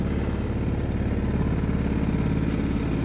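A sailing dinghy motors along on Lake Te Anau, New Zealand, its small outboard engine droning steadily and close, loud and unbroken throughout with no talk.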